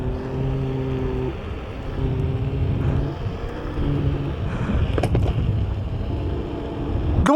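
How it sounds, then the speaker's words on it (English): The motor on a faulty Kukirin G2 electric scooter shakes, giving a low, wavering droning hum with shifting tonal pitches that runs steadily, then ends in a few sharp knocks. "The motor is shaking again!"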